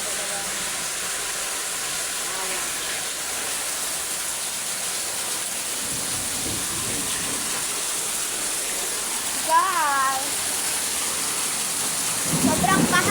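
Heavy rain from a storm pours in a constant loud roar during a power outage, with a voice speaking briefly partway through.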